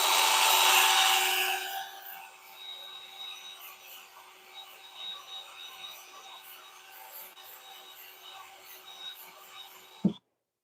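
80-grit sandpaper rubs against a cypress burl wood bowl spinning on a lathe, a steady abrasive hiss that starts loud and continues more softly for about ten seconds, ending with a brief knock.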